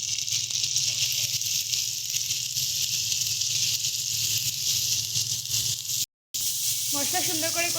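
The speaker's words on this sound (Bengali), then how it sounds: "মশলা সুন্দর করে কষিয়ে নিচ্ছি।" Spice paste with cumin powder, dry chilli powder and salt fries in a pan for a pomfret fish curry with potato and tomato, a steady loud sizzle and hiss, briefly cut off before a voice speaks at the end.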